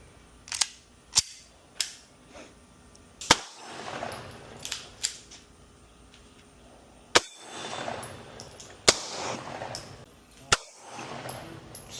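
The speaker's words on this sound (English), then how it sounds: "Unless you wanna go shoot the pistols right now." Pistol shots at an outdoor gun range in Texas, a dozen or so sharp cracks at irregular intervals, some in quick pairs, each with a short ringing tail and faint background noise between them.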